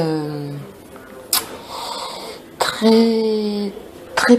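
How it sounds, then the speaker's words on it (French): A few short, harsh smoker's coughs and throat-clearing bursts break up a person's speech, close to the microphone. "je tousse toujours, je crache toujours"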